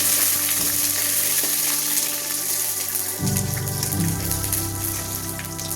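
Mustard seeds and curry leaves sizzle and crackle steadily in hot oil up close, the frying growing denser and more vigorous partway through, with no talking.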